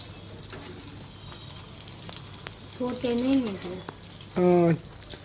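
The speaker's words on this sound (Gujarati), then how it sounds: "પછી તેલ ગરમ થઈ જાય ને પછી આ જે વાળા હતા ને અને ટીકી એને પછી તળી નાખવાની" Aloo tikki fry in hot oil with a soft, continuous sizzle, and a voice cuts in briefly twice over the frying.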